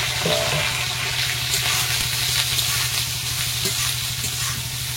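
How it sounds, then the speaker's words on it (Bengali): Soybean chunks sizzle in very hot oil in a wok, a continuous loud frying hiss with rhythmic stirring scrapes running through it, no voices. "সয়াবিনটা একটু ভালো করে ভেজে নেবো,"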